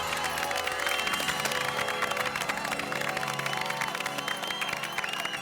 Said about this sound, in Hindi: आइए इन सूरज के पर्याय बच्चों के लिए बाल दिवस के दिन हम एक बार और जोरदार तालियां बजाएं।